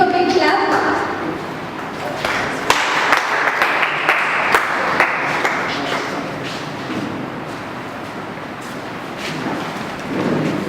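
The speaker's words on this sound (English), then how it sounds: "Give him a big clap." A church congregation applauds their pastor on Pastor Appreciation Day, a broad roar of clapping that is loudest at first and then thins into scattered, lighter claps, with voices murmuring underneath.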